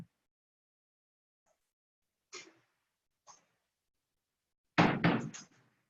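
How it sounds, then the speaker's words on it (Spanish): Door being shut in a university lecture room, a few light knocks and rattles followed by a louder closing thud, close by with near-silence between. "perdón, hay ruido aquí, permítanme cerrar la puerta."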